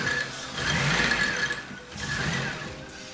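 A Volvo 240 power steering pump runs with a steady mechanical whir and a thin whine on top. The sound swells slightly and then eases back, with no voices.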